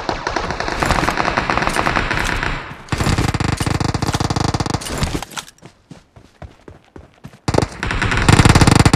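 Rapid bursts of gunfire crackle loudly through most of the stretch, with dense automatic volleys, a brief drop into scattered sharper cracks midway, then heavy firing again near the end.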